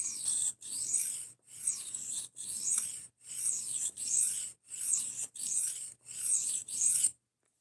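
An Esee Izula knife in 1095 steel being sharpened on a 1000 grit stone gives a close, crisp rasping scrape repeated in about nine even strokes separated by brief silences, then quiet.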